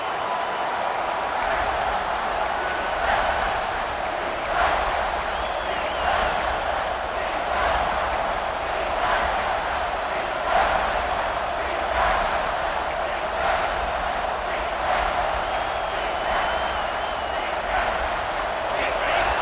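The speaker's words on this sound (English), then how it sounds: "the crowd really making some noise now, trying to help out this defense" Steady roar of a large college football stadium crowd at a Georgia game, loud and continuous with swelling cheers as it backs the defense, a commentator's voice faintly running beneath.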